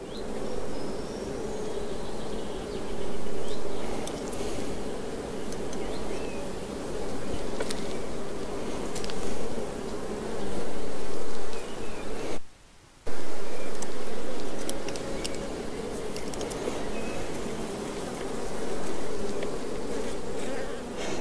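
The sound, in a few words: honeybees buzzing at an open beehive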